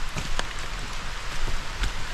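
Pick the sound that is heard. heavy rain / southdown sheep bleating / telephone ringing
heavy rain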